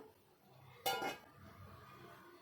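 A metal cooking pan is shifted on a gas stove in a home kitchen, giving one short, clear clattering scrape and clink against the burner, fairly close, amid a quiet room.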